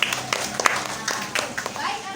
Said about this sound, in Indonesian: Kita tepuk tangan untuk temannya